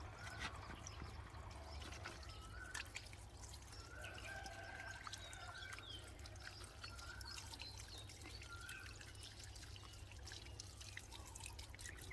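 Water is poured to rinse giant double-petal lotus seeds, giving a faint continuous trickle and splashing with scattered drips over a low steady background hum, with no talking.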